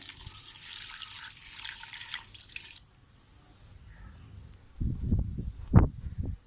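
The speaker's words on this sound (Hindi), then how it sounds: "इसमें हम पानी ऐड कर देंगे" Water pours in a steady hissing stream into a pressure cooker for a few seconds, then stops; later some clattering and sloshing sounds follow.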